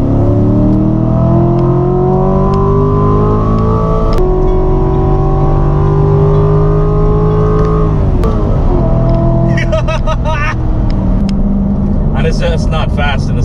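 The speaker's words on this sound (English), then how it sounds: "And that exhaust, oh my god, it sounds awesome." A C7 Corvette engine revs and roars loudly under full throttle, pitch climbing steadily then dropping with gear changes, with a deep exhaust rumble throughout.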